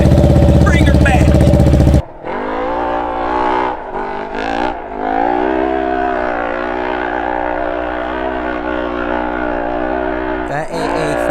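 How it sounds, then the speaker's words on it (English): An RS1 race car with an Aftermarket Assassins exhaust roars loud and close, a sustained deep engine drone with a rev dip midway and a rough burst near the end. "You cannot beat that Aftermarket Assassins. In my opinion, that is one of the best sounding exhausts."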